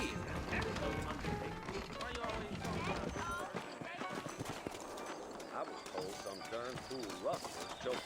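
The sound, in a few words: horses clip-clopping, from the video game Red Dead Redemption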